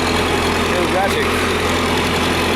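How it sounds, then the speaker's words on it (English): A worn John Deere 3020 tractor engine drones loud and close, its RPM surging and sagging erratically from a failing injection pump governor, with a voice talking over the steady rumble. "engine RPM fluctuations like this. And then it cuts off."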